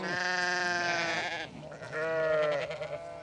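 Sheep used in place of mowers bleat loudly and close by in two long, wavering calls, the first lasting about a second and a half, the second following after a short gap.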